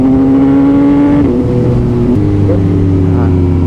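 A Kawasaki Z900 or Yamaha MT-09 sport motorcycle in riding mode 1 revs up hard and loud and close, climbing in pitch through quick gear changes as it accelerates.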